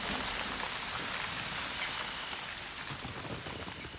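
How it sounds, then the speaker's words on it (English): Heavy rain pours down on the Serengeti plains during an afternoon storm, a steady, dense hiss of falling water that holds fairly even and eases only slightly toward the end, with no voices. "The rain beats down for 2 hours, abating only in the late afternoon."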